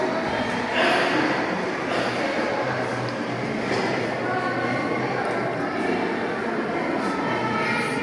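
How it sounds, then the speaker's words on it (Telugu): A rumbling, clattering train at Sapa station bound for Fansipan runs continuously and fairly loud, with crowd murmur around it. "సో ఇదేనండి ట్రైన్."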